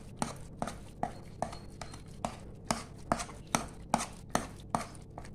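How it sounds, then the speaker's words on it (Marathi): A wooden churner (ravi) mashes cooked khapli wheat kheer in a pot, producing soft, regular knocking thuds about twice a second, close by but quiet. "तर या प्रकारे रवीनी ही सगळी जी खीर आहे ती अशी व्यवस्थित घोटून घ्यायची आधी."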